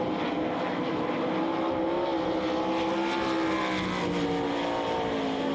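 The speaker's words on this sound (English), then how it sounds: "Bobby Hawks looking pretty good on the high side of the racetrack" 360 sprint cars race on a dirt track, engines droning loudly and continuously with a rising and falling whine as the cars circle, no voices over the roar.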